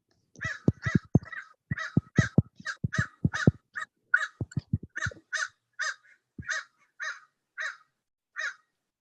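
Crows outside a house caw in a long run of about twenty harsh calls, quick and clustered at first and then spaced out, fairly close with some low thumps underneath.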